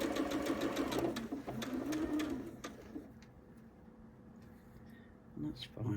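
A domestic sewing machine runs a quick rattling stitch along a seam of a scrappy toddler quilt, steady for a couple of seconds before slowing and stopping, while a person talks over it and a few soft clicks follow.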